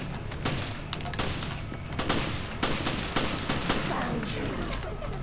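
Repeated shotgun blasts in the co-op raid mode of Resident Evil Revelations, several loud reports amid continuous game combat noise, with players talking over the action.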